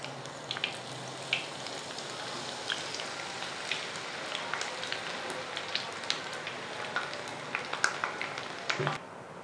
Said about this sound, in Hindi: इसी तरह हम तमाम दाल को फ्राई करेंगे 1-1 मिनट के लिए।